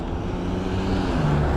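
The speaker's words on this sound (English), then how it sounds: "Look at this traffic over here," Steady road traffic rumbles past on a city street, a loud continuous engine and tyre drone with a low hum throughout, heard from an e-bike in Paterson, New Jersey.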